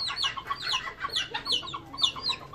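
Sultan chickens clucking close by, a rapid string of short, high, overlapping calls over a faint low background hum, without speech.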